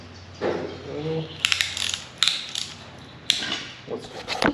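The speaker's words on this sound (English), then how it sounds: "Just gotta put it over the top, and you pretty much just ratchet her up." A ratchet tool is tightened over the top of a universal tool on a Toyota 5L engine during a rebuild, giving several short bursts of clicking that stand out close by against a quiet workshop background.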